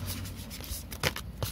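Tarot cards being shuffled by hand, a quick close run of papery riffling flutters and soft slaps over about a second and a half.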